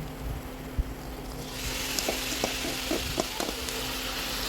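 Ground pork sautéing in a pan with tomato paste gives a steady sizzle and fry that swells after the first couple of seconds, punctuated by soft clicks and scrapes of a spatula stirring.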